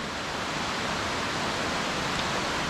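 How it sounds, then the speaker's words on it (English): Waterfall along the Enchantments hike near Leavenworth, a loud, steady broadband roar of rushing water with no pauses, heard close up. "But this waterfall is a nice change in scenery."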